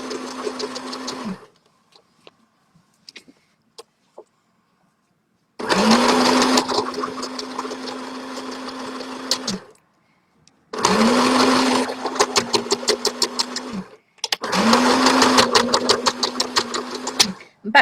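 Tie dye fabric pieces are stitched into a shopping bag on a sewing machine, which runs in three loud close bursts of fast rhythmic whirring stitches separated by pauses. Quiet clicks fill the first gap.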